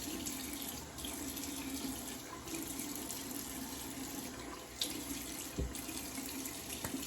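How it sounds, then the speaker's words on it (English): Steady cold tap water running and splashing into a sink while rinsing after a shave, continuous and close, with a couple of brief knocks partway through. "Like I say, cold water rinse for me."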